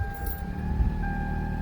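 A 1995 Toyota Camry with a manual transmission runs just after starting, its steady engine rumble and whine holding close and even with a brief clink near the start.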